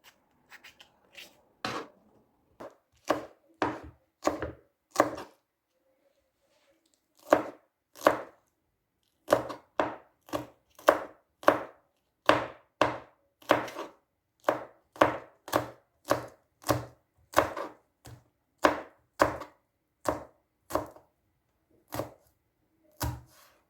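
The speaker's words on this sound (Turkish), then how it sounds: "Sebzeleri doğradım." A knife chops vegetables steadily on a cutting board, dozens of crisp, close strokes in an even rhythm, with brief pauses.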